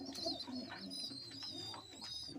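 Lakka fantail pigeons coo softly in a loft, a steady low murmur of overlapping calls with faint chirps above, close and continuous.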